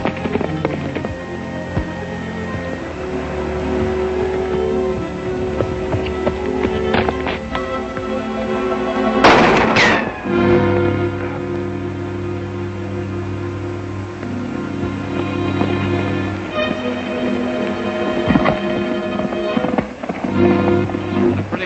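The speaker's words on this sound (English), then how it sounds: "Then we'll turn and start shooting." A western film shootout, with sharp gunshots cracking at intervals over a steady background of score and hoofbeats, and one loud cluster of shots near the middle.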